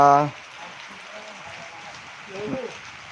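Soft, even rain patter fills the air outdoors at a farm, with a short voiced sound at the start and faint murmurs later.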